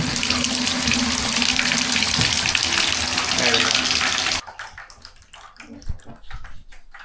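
Water gushes from an opened bath tap as household tanks are drained with the mains off, a loud steady rush that stops abruptly partway, leaving faint drips and knocks.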